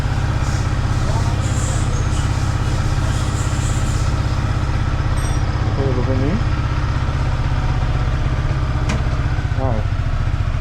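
A motorcycle rides along just after servicing with a newly fitted chain, its engine holding a steady, smooth low drone throughout, with brief voices rising faintly over it.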